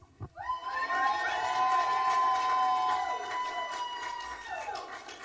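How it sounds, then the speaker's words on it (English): Church congregation cheering together for David and Mary, a loud burst of many voices shouting and whooping at once, sustained for several seconds before tapering off. "do a cheer for David and Mary"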